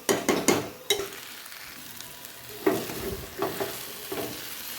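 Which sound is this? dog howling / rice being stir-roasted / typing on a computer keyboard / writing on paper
rice being stir-roasted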